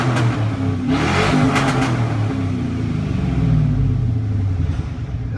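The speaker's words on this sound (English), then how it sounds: "We're gonna give it a couple revs, see how this one sounds." A 2001 GMC Yukon Denali's 6.0L LQ4 V8 is revved a couple of times, rising and falling with a rumbly idle underneath, heard close and alone.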